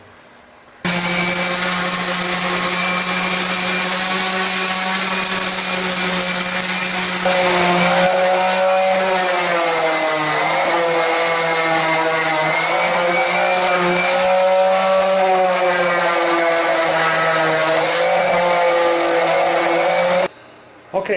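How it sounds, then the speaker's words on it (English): A power sander works steadily across a black spruce log bed, its whining drone holding nearly constant for about twenty seconds with slight wavering pitch, close and loud, starting and stopping abruptly. "now I'm going to start to sand this"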